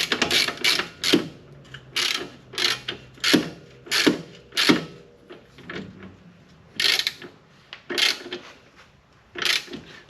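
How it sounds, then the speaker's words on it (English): A ratchet wrench tightening the lower coilover bolt on a Suzuki Cappuccino, sounding as a close series of sharp clicking bursts in uneven rhythm, with short pauses between the groups of strokes. "Tighten up the lower bolt on the coil."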